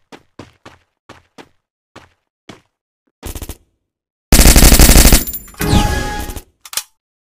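Gunfire in the mobile battle-royale game Free Fire: a run of single sharp shots spaced apart, then a short burst and two long, loud automatic volleys close to the listener, with no talk.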